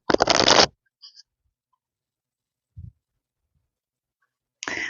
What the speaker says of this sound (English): I will go ahead and give the cards a shuffle to begin with.